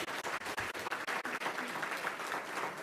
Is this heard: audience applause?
yes